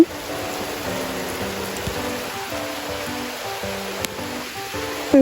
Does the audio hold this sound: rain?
yes